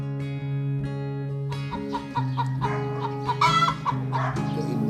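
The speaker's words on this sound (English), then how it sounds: "Chickens." Several chickens cluck in a steady, close-up chorus of repeated short calls, with no talking.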